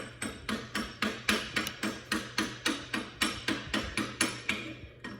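Slag chipping off an overhead 6010 and 7018 SMAW stick weld, heard as a steady run of about nineteen sharp, close metallic knocks with short ringing tails, evenly paced and alone.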